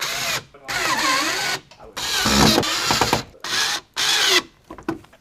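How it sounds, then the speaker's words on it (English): A Snap-on drill with a 1/4-inch magnetic bit drives self-tapping screws while a 2014 Jetta TDI door speaker is installed, giving several loud whirring bursts of a few seconds each separated by short pauses. "we're going to use a little 1/4 magnetic bit in my snap-on drill"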